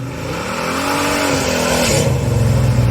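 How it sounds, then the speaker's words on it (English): A 1968 Pontiac GTO with a big-block 455 V8 rumbles steadily and loudly nearby, its revs rising slightly with a deep low hum throughout and no voices. "it is a 68 Pontiac GTO. Such a beautiful car. It's got a big block 455 in it."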